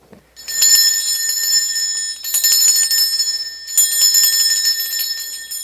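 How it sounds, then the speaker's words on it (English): A bell is rung to cleanse a space: three long bright metallic ringing bursts, each sustained with a shimmering tone, close and loud with brief gaps between, no talk. "I'm going to ring the bell here. This is just to cleanse the space around us."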